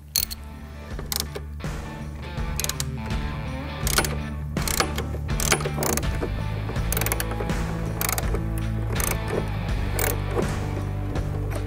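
A hand tool ratchets out the last screws on the outer fairing of an Indian Challenger motorcycle, giving loud close repeated clicks and mechanical turning sounds throughout.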